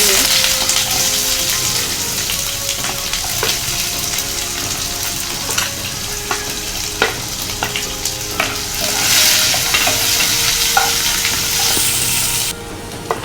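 Cumin seeds and onion frying in a pan make a loud, continuous hiss and crackle close by, with scattered scraping stirs and pops throughout and no voices.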